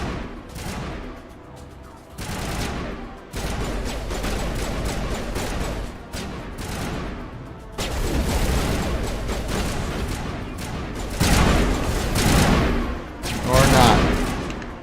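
Gunfire and blasts from the Mass Effect Legendary Edition shooter, repeated bursts of shots with a dense, ongoing battle din throughout, growing louder toward the end.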